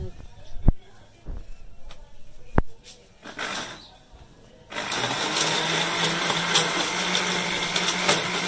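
Scattered clinks and brief noises, then a loud, steady kitchen blender motor starts and whirs continuously to the end while blending chicken shorba ingredients with a little water.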